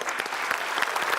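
Studio audience applauding on an Indonesian television quiz game show, a dense, steady burst of clapping held at even loudness for a moment, fairly close.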